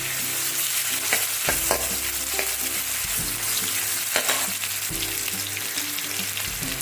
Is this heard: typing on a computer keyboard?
no